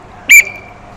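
A costumed character at a children's acrobatics show put on by the Van municipality gives one short, sharp, loud blast on a whistle, followed by quiet.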